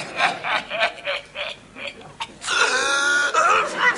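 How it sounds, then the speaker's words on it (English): A man coughing hard first thing in the morning, a run of several harsh, rasping hacks in rough rhythm, close and fairly loud, ending in a longer, wheezy rattling cough. "It's the sound of him coughing his guts up first thing of the morning"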